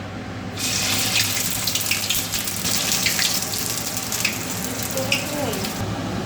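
Corn fritters (garelu) hit hot oil in a pan and burst into a loud, steady sizzling hiss that starts abruptly and holds for several seconds before cutting off.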